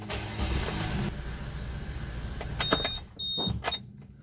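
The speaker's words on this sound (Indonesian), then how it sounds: "kita setelah jumper tinggal kita nyalakan mesinnya" A boxy Suzuki Karimun Kotak car cranks and starts after a jump, with a steady running hum, then short clicking and whirring sounds and brief electronic beeps as the engine catches.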